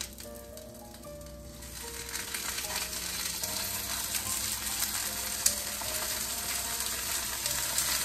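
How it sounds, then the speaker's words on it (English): Spinach sautés in a pan for a dip, giving a steady bubbling sizzle with light stirring rattles. The frying noise grows slightly fuller as it goes on and continues without a break. "So I'm gonna go ahead and continue to saute this and then we'll add the spinach in next."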